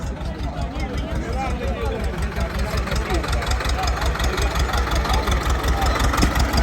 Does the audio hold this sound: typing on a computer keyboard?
no